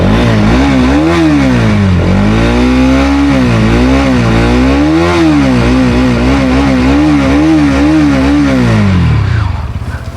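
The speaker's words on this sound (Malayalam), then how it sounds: "അതുപോലെ തന്നെ വണ്ടിയുടെ എക്സോസ്റ്റ് സൗണ്ടാണ് നമുക്കിനി അറിയേണ്ടത്." A 2024 Bajaj Pulsar NS 200 motorcycle engine revs loudly and up close, its exhaust note rising and falling in repeated throttle blips before settling and cutting off near the end, with no talking.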